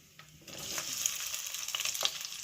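Onion with garlic and ginger fries in oil in a pan for sambar, a close crackling sizzle that swells after a quiet start, with a few stirring scrapes.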